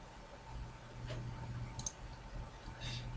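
A couple of sharp computer mouse clicks while browsing a web page, small and close, with faint broadband room hiss and a low hum under them; no talk.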